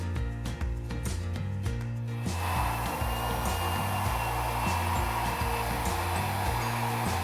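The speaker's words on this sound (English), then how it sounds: "I'm blow drying kind of at the root first to make sure that the root is really dry" A handheld hair dryer blow-dries hair at the roots with a steady, loud, close airy roar that starts a couple of seconds in and continues over soft background music.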